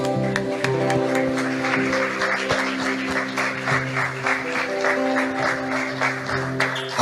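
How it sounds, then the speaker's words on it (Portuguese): A church congregation claps together in steady, rhythmic applause over sustained music during worship, loud and close throughout, with no talking. "levante as suas mãos bem altas e aplauda ao autor e criador da sua e da minha"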